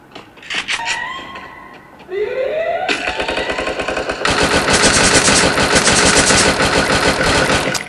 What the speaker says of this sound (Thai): ยิงไปตั้งนานไม่โดนเลย